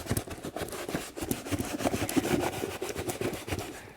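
A cloth rubbing briskly over oil-tanned leather boots, quick repeated back-and-forth buffing strokes in a fast, even rhythm, close and moderately loud with no talking.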